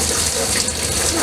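Tap water runs steadily into a kitchen sink, a brief continuous hissing splash heard close up, with a little talk in the background.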